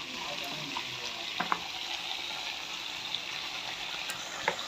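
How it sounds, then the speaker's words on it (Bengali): Water hits hot oil in a wok, giving a steady hiss and sizzle with a few sharp pops and crackles, close and continuous with no talking. "তো এখন জল দিয়ে দেবো।"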